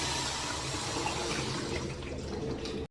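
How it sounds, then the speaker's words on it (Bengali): Water is poured over raw mangoes in a cooking pot ahead of boiling, a steady, close rushing splash that holds at an even level before it stops abruptly. "জল দিয়ে দেবো"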